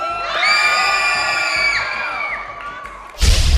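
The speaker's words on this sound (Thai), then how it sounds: "อ่ากองเชียร์พี่เจี๊ยบ ขอเสียงเฮหน่อย" A studio audience on a Thai television game show cheers for contestant Jiab with sustained whoops and high shouts, then a sharp, loud burst of applause-like noise at the end.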